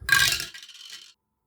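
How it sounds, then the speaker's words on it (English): Two dice tumble through a small folding portable dice tower, a brief bright clattering burst of plastic rattles that fades into lighter scraping and stops after about a second. "So I've got my handy little folding portable dice tower here, and a couple of dice."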